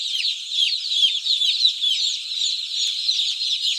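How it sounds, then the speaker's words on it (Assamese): Dense, continuous high chirping from many newly arrived broiler chicks on a poultry farm, a steady close chorus with no talk. "এয়া দেখিছে পোৱালিবিলাক।"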